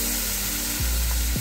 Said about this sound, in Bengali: এবার আমি এখানে জল দিয়ে দেবো